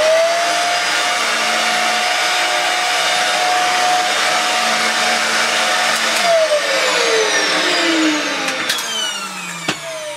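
A Dyson DC50 vacuum cleaner motor runs with a steady, loud whine and sustained tones, close and continuous, dropping slightly in pitch near the end with a brief knock before settling.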